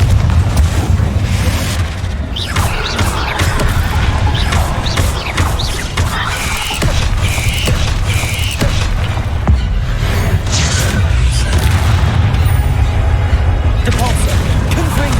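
Continuous loud booms and crashing blasts from Confringo blasting spells in Hogwarts Legacy, dense overlapping explosions filling the whole stretch with little pause.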